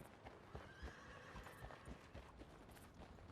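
A horse in the video game Red Dead Redemption 2 walks with a steady clip-clop of hooves and gives a whinny, heard faintly against a quiet background.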